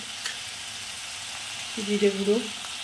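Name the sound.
frying turmeric, cumin and coriander powder in masala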